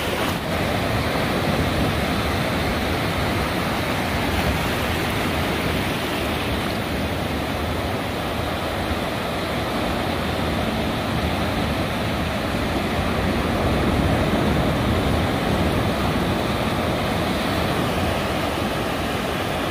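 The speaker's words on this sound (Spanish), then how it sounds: "cuesta pasar la de las olas" Sea waves break at the shore in a steady, loud wash of surf alongside a strong current, with a continuous roar that stays alone for the whole stretch and carries no voices.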